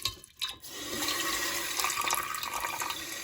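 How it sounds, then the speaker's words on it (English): Water runs from a kitchen tap into the base of a steamer pot for artichokes, a steady rushing pour that swells after a brief start and continues without talk. "So we're only going to fill the base of it up here, so just a little bit of water."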